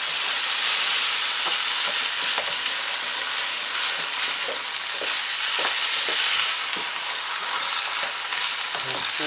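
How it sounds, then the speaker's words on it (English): Bolognese risotto sizzles and fries in a pan while a utensil stirs it, giving a continuous bright crackle broken by soft scraping strokes at close range. "scrape that out the jug, give that a stir."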